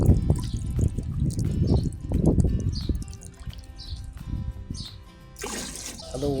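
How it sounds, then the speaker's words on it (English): Water trickling and dribbling out of a watered garden container, a fairly close, uneven liquid flow that swells and eases, with faint bird chirps in the background and a brief louder splash near the end. "and the water's all leaking out."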